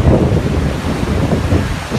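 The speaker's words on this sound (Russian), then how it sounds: "Ветерок тут такой свеженький." Fresh breeze gusts across the microphone at a Florida beach with lifeguards, mixed with a broad rushing wash of surf, loud and steady, no voices.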